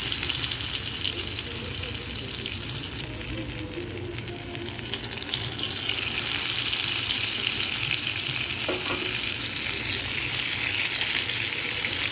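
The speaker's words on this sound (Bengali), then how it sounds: "বেগুনগুলোকে ভালো করে উল্টে পাল্টে ভাজা করে নিয়েছি" Spiced eggplant slices fry in a pan in a village kitchen, producing a loud, continuous sizzle that holds steady throughout with no voices.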